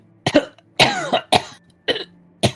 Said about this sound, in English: Yep, and you come out of it coughing.